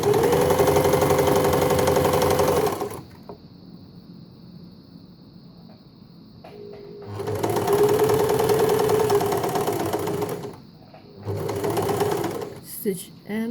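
An Empisal Dressmaker 270D sewing machine runs in three bursts of steady, close motor whirring and needle chatter, separated by quieter pauses with brief handling clicks.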